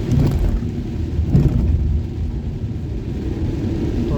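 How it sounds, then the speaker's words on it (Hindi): Rain starts falling on a vehicle driving at night along a rough road near Bhimtal, Uttarakhand. A steady, loud low rumble of road and engine noise runs throughout, with a hiss of rain over it and no talk. "अब बारिश भी स्टार्ट हो चुकी है।"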